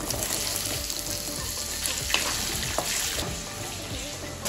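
Diced potatoes fry in a pan with whole garam masala spices, giving a continuous close sizzle and crackle with occasional sharper pops and no talking.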